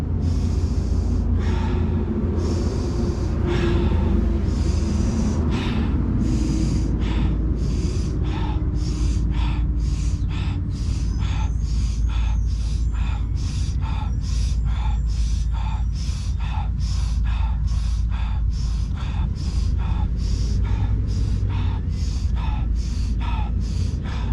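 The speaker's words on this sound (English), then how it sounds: "This breath, we're gonna go in through the nose and out through the mouth." Rapid rhythmic fire breathing during a runners' warm-up, sharp inhales through the nose and forceful exhales through the mouth repeating dozens of times, close and loud throughout.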